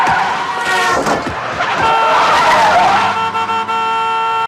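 A car brakes hard and its tyres skid with a long, loud screech in a movie scene, a horn-like tone sounding through the noise before it cuts off abruptly.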